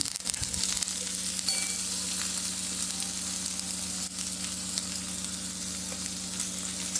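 Ginger garlic paste sizzles in a pan for a cabbage and peas curry, a steady soft frying hiss broken by light scraping of the stirring spoon; no voices.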